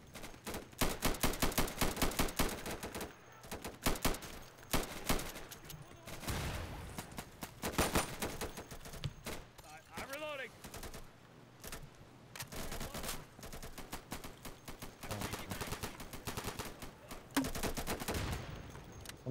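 Rapid automatic gunfire and grenade-launcher shots in the tactical shooter Insurgency, dense bursts rattling close and loud for long stretches, broken by brief pauses and a whistling launch in the middle.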